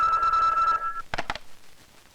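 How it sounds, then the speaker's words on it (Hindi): A telephone bell rings steadily in a Hindi film scene, then breaks off and is followed by two short louder bursts of ringing, with no talk. "रिपोर्टर राकेश का फोन है।"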